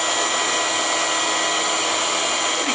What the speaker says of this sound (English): That's a vacuum cleaner.